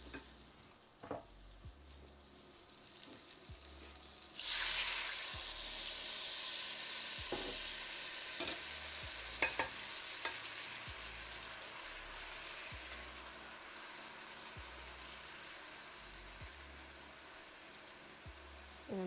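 Food simmers gently in a kitchen pan, a soft, steady low sizzle and bubbling running throughout, with a brief louder hiss flaring up near the middle and small clinks now and then.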